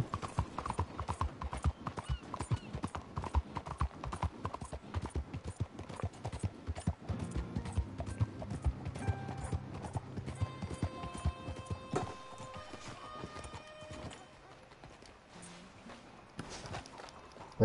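Steady clip-clop of horse hooves trotting at a quick, even rhythm in the video game Red Dead Redemption 2, with faint mechanical clanks and ambient noise in the background.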